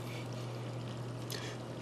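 Tap water in the Resident Evil 3 game runs in a steady, even stream with a constant hiss. A low hum lies under it, and a brief tone enters near the end.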